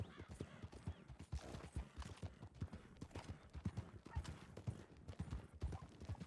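Horses ride off in a western video game roleplay: many hooves clip-clop in a rapid, busy rhythm, fairly close and continuous throughout, with faint voices mixed in.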